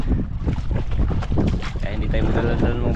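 Strong gusting wind buffets the microphone in heavy bursts, with people talking underneath the rushing noise.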